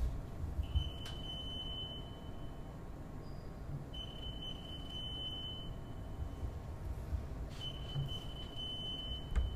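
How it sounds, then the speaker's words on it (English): A fume hood alarm in a classroom gives short high beeps in repeated bursts, each a few quick pips, sounding at a steady interval against quiet room noise. "Is it a fume hood alarm?"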